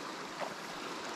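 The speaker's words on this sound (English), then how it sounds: "You're on the top of a waterfall." Steady rushing water at the top of a waterfall in a hilly valley, a faint, even broadband wash with no voices over it.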